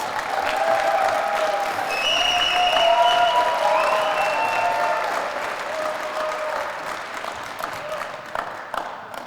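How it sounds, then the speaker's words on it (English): Audience applause at a graduation ceremony for the OKK School, steady clapping from a sizable crowd over about nine seconds that slowly thins out toward the end. "Let's give them another round of applause."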